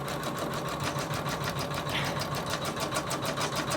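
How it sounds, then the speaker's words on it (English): A machine steadily stitches through layers of organza and wash-away stabiliser for a Christmas angel embroidery, with a continuous, fast, even mechanical whir running close and unbroken throughout. "so I'm starting to stitch"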